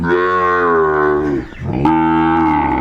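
A Sahiwal cattle on a farm in Netrokona gives a loud, close, drawn-out moo that breaks off briefly, then resumes with a second long low call.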